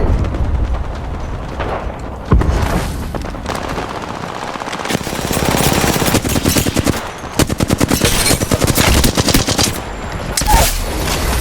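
Heavy automatic gunfire in the Apex Legends battle royale rattles in loud, close bursts of rapid shots, broken by short pauses and a few sharper blasts.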